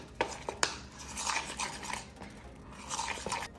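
A utensil clinks and scrapes in a bowl while Greek yogurt, cream cheese and sweetener are mixed for a cheesecake, giving a few sharp knocks then soft, irregular stirring and squishing close by, with no voices.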